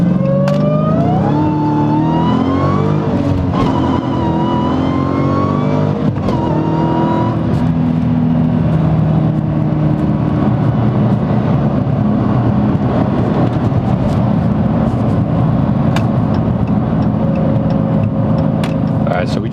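A 2009 Dodge Challenger accelerating hard up an on-ramp, its engine climbing loudly through rising revs with a brief shift break before pulling again, then settling into a steady drone with road roar.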